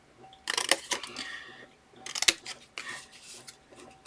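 Scissors cutting paper for a Christmas ornament, several crisp snips in short clusters with quiet pauses between them, close and clear with no talking.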